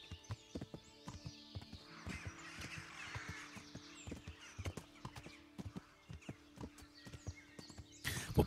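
Horse hooves clip-clopping at a steady walking rhythm while riding in Kingdom Come: Deliverance, with a low hum of game ambience underneath and a louder burst near the end.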